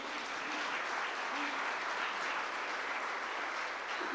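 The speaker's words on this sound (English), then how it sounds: "So a round of applause for Aaron." Sustained applause from a business conference audience, a steady, even wash of many hands clapping at moderate distance with no talk over it.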